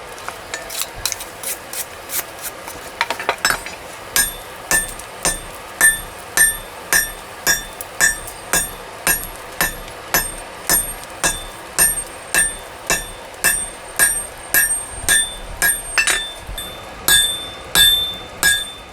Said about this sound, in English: Again, the billet is drawn out.